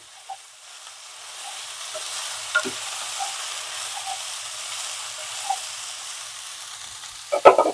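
Broad bean seeds lightly frying in a pan for a gravy curry, a soft steady sizzle with occasional stirring clicks and a sharper clatter near the end.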